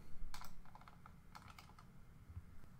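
Fingers type on a computer keyboard in a quiet room, with a few short, faint bursts of clicking keys separated by pauses.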